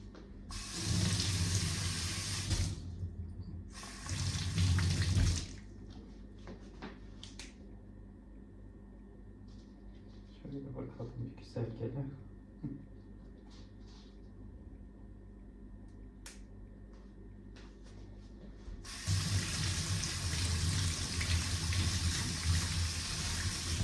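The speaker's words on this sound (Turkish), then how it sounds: "Ben bunları tabii güzel yıkayayım" Vegetables, including cauliflower, are washed under running tap water in a sink, with bursts of gushing water at the start and end and quieter handling sounds between.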